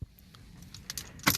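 Brief close jangle of car keys while switching off a VW Golf MK6, soft at first then a bright rattling burst near the end, with faint cabin sounds.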